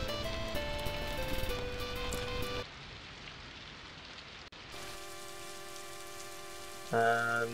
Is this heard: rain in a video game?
yes